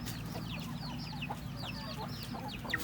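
Egg-laying hens cluck and squawk excitedly as they are grabbed in a coop, several birds at once with a constant rustle and low rumble beneath.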